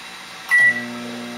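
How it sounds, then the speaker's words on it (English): A microwave oven starts up with a short burst of noise, then settles into a steady low electrical hum with a faint tonal whine, running alone close by. "Okay, we'll take a look at a microwave."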